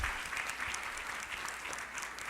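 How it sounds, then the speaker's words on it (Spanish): Sustained, even applause from a conference audience honouring Cristian on a Saturday session, steady and moderately distant throughout with no voices over it. "Un aplauso por Cristian, porque se pasó la semana entera"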